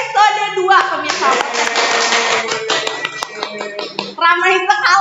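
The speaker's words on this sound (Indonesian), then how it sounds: "Ayo beri tepuk tangan dulu untuk episode 2, pemirsa." A small group clapping in a podcast studio, a brief burst of applause and cheering between bursts of excited talk from the hosts.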